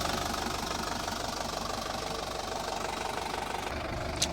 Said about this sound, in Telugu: ఇంజన్ సౌండ్ కూడా